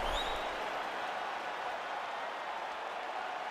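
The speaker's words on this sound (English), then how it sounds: "So the crowd voicing its appreciation after that round." A virtual arena crowd in EA Sports UFC 4 applauds and roars steadily after a round of a featherweight championship fight, a broad continuous wash of cheering with no clear individual voices.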